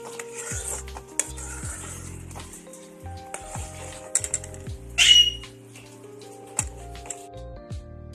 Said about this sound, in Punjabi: ਇਸ ਤਰ੍ਹਾਂ ਆਪਾਂ ਹਲਾਈ ਜਾਣਾ